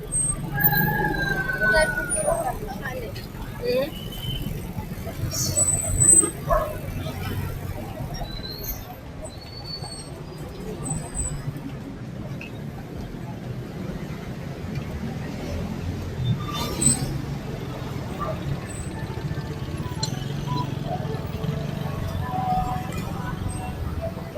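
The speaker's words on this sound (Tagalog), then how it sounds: "Traffic na rito." Road traffic on a street in Pateros, with a siren wailing and bus and vehicle noise passing close by, steady and moderately loud, with people talking over it at times.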